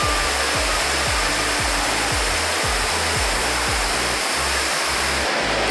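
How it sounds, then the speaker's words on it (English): The indoor waterfall at Jewel, Changi Airport, Singapore, makes a loud, steady rushing roar of falling water, with repeated dull low thumps running beneath it. "Indoor waterfall, that's kind of a crazy experience."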